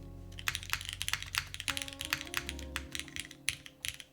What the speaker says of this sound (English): the more I type on it though, and this is not me fluffing the keyboard